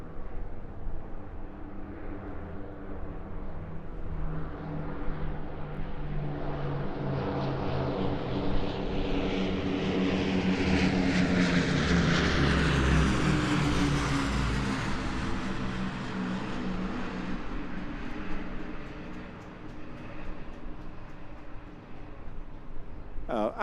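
Battle of Britain Memorial Flight propeller warbirds make an airshow flypast at Eastbourne, a loud droning engine roar that builds steadily, peaks around the middle as they pass close overhead, then eases away.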